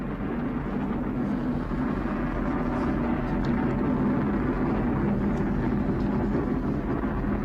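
Atlas rocket's RD-180 engine during launch, about thirty seconds into flight: a steady, continuous low roar with broad rumbling noise, unbroken throughout and heard from a distance.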